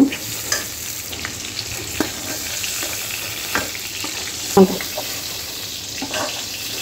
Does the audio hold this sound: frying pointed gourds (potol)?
yes